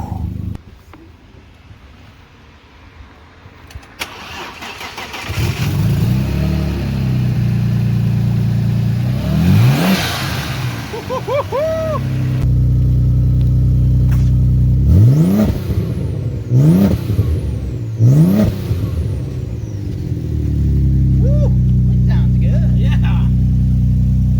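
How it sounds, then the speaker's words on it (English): A neglected Audi S4 Nogaro edition, jump started off a GLI, idles and then revs in repeated rising bursts with sharp intake backfire pops, loud and close, with people talking over it. "Just like crazy intake backfire."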